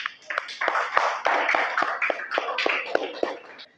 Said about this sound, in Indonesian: beri tepuk tangan para dai dan daiyah